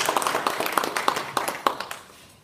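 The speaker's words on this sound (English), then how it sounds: "it is after round of applause." A short burst of applause from a small group of editors at an official courtesy call with the governor of Bayelsa State, uneven clapping that fades out within a couple of seconds.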